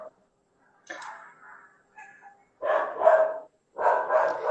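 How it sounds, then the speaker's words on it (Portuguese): Dogs barking at the street from inside a home during the evening, a few separated barks and yips, one short burst then two louder ones with pauses between. "as minhas cachorras, elas, nesses horários críticos, elas costumam dar notícia de tudo que passa na rua"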